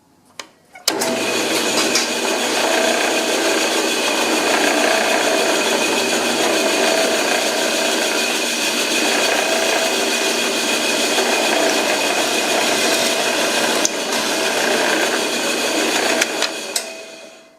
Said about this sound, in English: go to the sander.